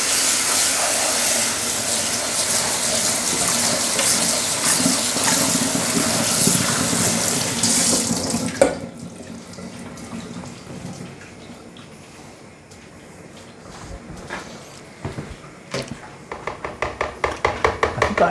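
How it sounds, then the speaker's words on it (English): Running tap water pours steadily and loudly over spinach leaves being rinsed, then stops abruptly, leaving quieter handling clatter and light knocks. "I'll give that a rinse because you do get a bit of grit and stuff in spinach."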